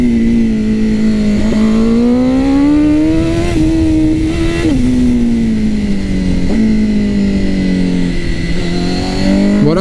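A Honda CBR 1000 RR-R SP sport motorcycle ridden on a road, its engine loud and close, the pitch rising and falling as the rider rolls on and off the throttle with no pauses.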